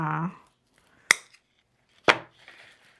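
Two sharp, crisp snips as a dry-rotted hoya plant stem is cut, spaced about a second apart and close up, with a brief voice at the start.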